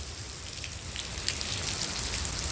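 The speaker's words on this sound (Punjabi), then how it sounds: "ਮੀਂਹ ਪੈ ਰਿਹਾ" Steady early-morning rain pours down on its own around 6 a.m. in Sri Ganganagar, a dense, even hiss of drops hitting surfaces with no voices.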